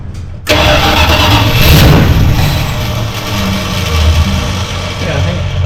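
A 1985 Dodge D-150 pickup engine, just fitted with a 4-barrel carburetor, catches and then idles loud and close with a rough, steady rumble after a brief silence. People talk over it.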